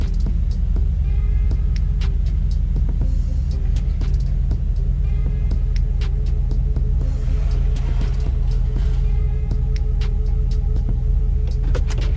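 A 2009 Chevrolet Silverado extended cab pickup crawling in four-wheel drive, a low steady engine rumble from inside the cab with scattered clicks and rattles, no talking.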